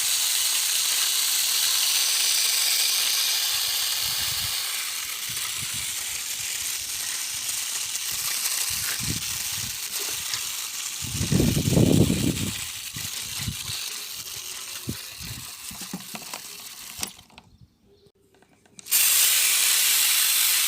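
Sour buttermilk sprayed onto garden plants with a hand sprayer: a steady hissing spray runs throughout, with a louder low burst near the middle and a brief drop to near silence before the spray resumes.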